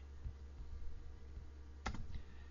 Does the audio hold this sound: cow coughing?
no